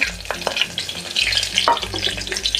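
Whole spices (cloves, cinnamon, star anise and stone flower) with green chillies sauté in hot oil, close crackling sizzle broken by quick stirring scrapes and small pops, no voices.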